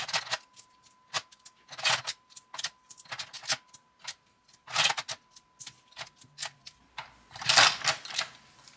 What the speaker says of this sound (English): be sure to tape it all the way around